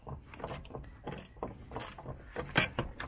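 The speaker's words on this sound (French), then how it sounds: "On va enlever, desserrer le petit boulon qu'il y a là." A 10 mm wrench loosens a small bolt at the rear right of a Tesla Model 3 trunk, giving a run of quick ratcheting clicks and metallic ticks, close and moderately loud, with no talking.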